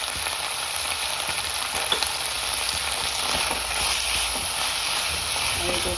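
Palak paneer gravy sizzles and fries steadily in a pan while a spoon stirs it, a dense continuous crackle with occasional scraping and some faint talk underneath.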